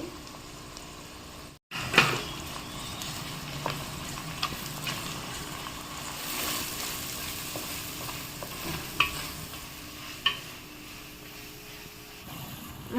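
Ginger garlic paste and masala fry with onions in a pan for a fish curry. The close sizzle is stirred repeatedly, with a few sharp scrapes and clinks throughout.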